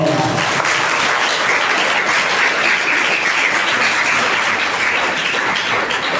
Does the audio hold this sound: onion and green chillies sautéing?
no